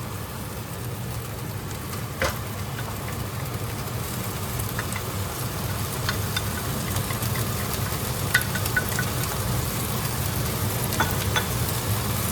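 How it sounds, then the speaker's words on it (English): Rice and vegetables stir-fry in a pan with a continuous, even sizzle, punctuated by occasional clicks and scrapes of stirring. "At this point, I'm gonna add the rice."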